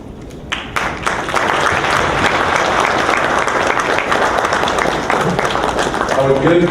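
An opening-ceremony audience at a diaspora engagement conference in Guyana breaks into loud, sustained applause for the university's Vice Chancellor, rising after a few scattered early claps, with voices audible near the end.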